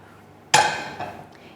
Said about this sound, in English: Hearing Discord notification sounds.